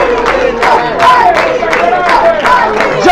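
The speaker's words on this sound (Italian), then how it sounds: "Ovviamente gli applausi del pubblico di casa per il numero 11" A home crowd at an Italian Coppa Italia Eccellenza football match in Sicily roars and shouts after a goal, a near, loud wall of voices with rhythmic swells.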